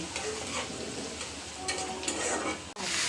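Leafy greens fry in hot oil with a steady, close sizzling hiss that runs unbroken throughout and carries no talk.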